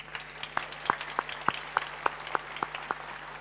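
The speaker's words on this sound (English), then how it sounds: "a huge round of applause for our first batch of teams as well" Applause from an audience at a startup demo day for the first batch of pitching teams: a soft crowd wash with a sharp, regular clap close by, about ten beats at steady half-second intervals.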